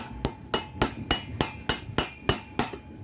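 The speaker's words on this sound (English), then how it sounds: "I am going to now hammer this guy on." Ten sharp, evenly spaced hammer strikes ring out in quick succession as a part is driven onto a shaft held in a vise, during the rebuild of a rear transport roller from a GS pinsetter short pit series 443+ bowling machine.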